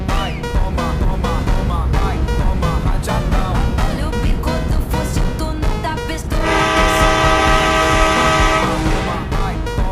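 A passenger train bound for Chuadanga in Bangladesh rolls along with a dense, steady rumble, and a long, sustained horn blast sounds through the second half.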